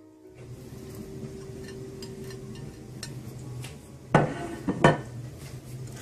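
Tomatoes go into minced meat in a frying pan, heard as soft stirring scrapes and then two or three sharp metallic clanks of utensil against pan, close by, with no talk.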